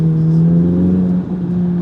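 Chevrolet Corvette Z06 engine while driving, a loud, steady low rumbling drone heard from inside the car with a slight dip in tone near the end.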